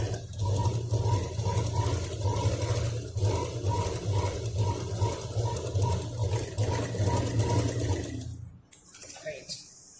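A sewing machine stitches a handbag pocket, its needle chattering in a fast steady rhythm at close range for about eight seconds before stopping abruptly.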